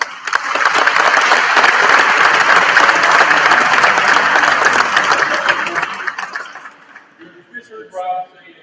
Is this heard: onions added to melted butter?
no